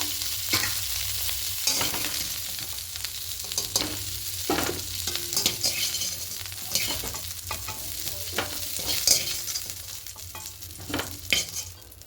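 Cauliflower pieces frying in oil in a pan, a continuous close sizzle with repeated scraping stirs and turns of the pieces, fairly even and moderately loud throughout, with no voices.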